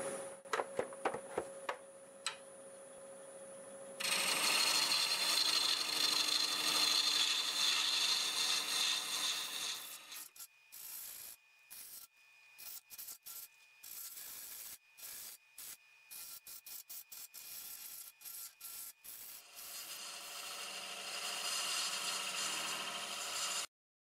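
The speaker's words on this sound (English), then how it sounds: "So I'm going to use my half inch bowl gouge. I'm going to turn around 720" A wood lathe at about 720 RPM turns a segmented wood blank cut by a half inch bowl gouge, a loud steady scraping hiss broken by a run of rapid intermittent cuts, then a steady cut again.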